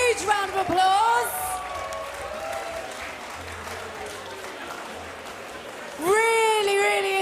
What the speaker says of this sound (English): Give both fighters a huge round of applause.